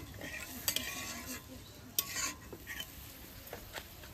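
Bengali spice paste with chilli powder being stirred in a pan for a hilsa curry, faint sizzling under repeated scraping and clinking of a spatula against the pan, uneven strokes, quiet and close, no talking.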